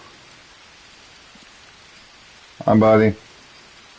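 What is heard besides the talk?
rain falling in the video game Green Hell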